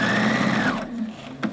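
A sewing machine stitches over a seam of continuous bias sleeve binding, its motor whirring loudly and close for under a second before stopping, followed by a small click.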